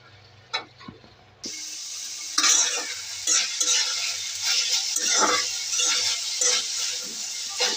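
Malabar spinach stir-fried in an uncovered pan with a little water left sizzles and hisses up close, broken by repeated scraping stirs of a spatula after a brief quiet start.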